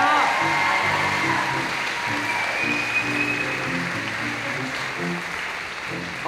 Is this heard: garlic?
no